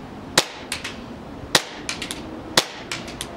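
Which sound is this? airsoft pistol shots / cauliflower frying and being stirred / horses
airsoft pistol shots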